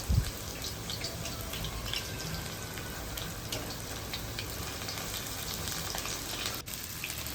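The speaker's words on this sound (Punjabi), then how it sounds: "ਕੜਾਈ ਵਿੱਚ ਪਾਵਾਂਗੇ ਤੇਲ ਤੇ ਕਰੇਲਿਆਂ ਨੂੰ ਆਪਾਂ ਕਰਾਂਗੇ ਫਰਾਈ" Bitter gourd pieces frying in hot oil in a wok, giving a steady, dense sizzling crackle close by. It runs evenly throughout, with a small knock near the start.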